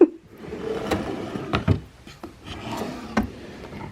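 A wooden craft-room drawer slides open or shut with rubbing, scraping wood friction and a few knocks. It is close and moderately loud, and no one speaks.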